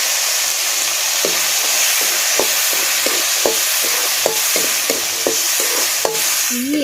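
Sliced onions fry in hot oil for a shallow-fried turkey berry dish, sizzling steadily while a spoon scrapes and stirs the pan in repeated sharp knocks.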